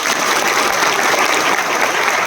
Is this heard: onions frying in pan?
no